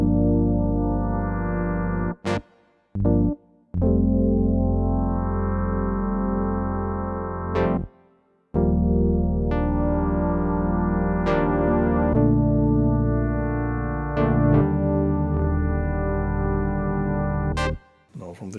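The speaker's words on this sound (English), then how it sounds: "Syn brass on the DX7 sounds like this." A Yamaha DX7 synthesizer playing its synth brass patch: sustained, harmonically rich brassy chords held for several seconds each, with a few brief gaps between phrases, loud and close with no voices.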